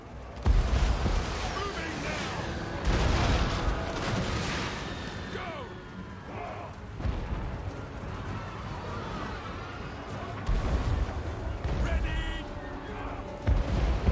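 Booming artillery cannon fire and explosive blasts in a Total War: Warhammer 2 battle, with repeated heavy bursts and rumbling over a constant noisy din, and a voice talking throughout.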